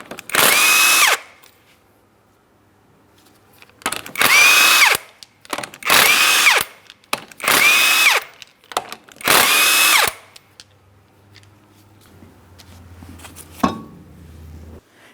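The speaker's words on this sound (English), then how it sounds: "you're going to remove all 5 of your 19mm lug nuts so we can get the wheel off of here" A power tool removes five 19mm lug nuts from the wheel of a 2003-2007 Cadillac CTS, sounding as five loud, close whirring bursts separated by short pauses, followed by a faint clink and a low rumble.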